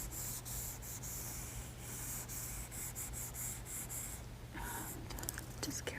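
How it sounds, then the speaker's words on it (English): A small eraser rubbing back and forth over pencil marks on paper, a soft continuous scratchy brushing that stays close and quiet, with a few short taps near the end. "Just carefully erase each of these little guys here."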